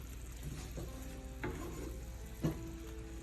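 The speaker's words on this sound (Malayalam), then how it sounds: "അതിനുശേഷം ഇത് നന്നായിട്ട് ഒന്നും കൂടെ ഇളക്കി കൊടുക്കുകയാണ്" Fried okra being stirred into masala in a pan gives a soft, steady sizzle, with a few light spatula scrapes and taps heard close by.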